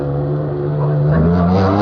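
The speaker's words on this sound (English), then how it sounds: "he's over the bridge. Runs wide. Into the water splash" A rally car on the 2013 Jim Clark Rally drives through a water splash. It sounds as a loud, close engine roar that rises steadily as it revs, with no voices.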